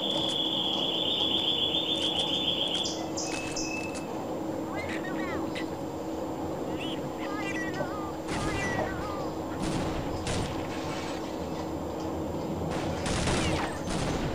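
Odd weapon fire in Counter-Strike Online on the Angel City map comes as repeated sharp bursts and volleys over constant game ambience, with a voice talking throughout.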